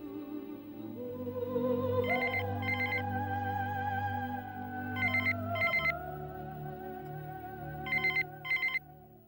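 A telephone rings in three separate double-trill bursts over a steady bed of background music in a Hindi TV drama scene; the rings are clear and fairly close.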